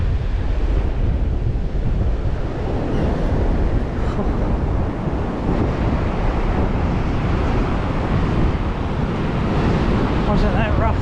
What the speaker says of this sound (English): Look at the size of some of these waves